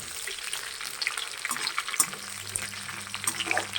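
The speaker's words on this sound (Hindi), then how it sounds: "मम्मी कैसे कटहल को अच्छे से भून रही है, फ्राई कर रही है अच्छे से" Jackfruit frying in a pan in a home kitchen gives a steady, close sizzle, with scraping stir noises throughout and no voices.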